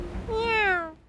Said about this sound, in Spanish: Miau.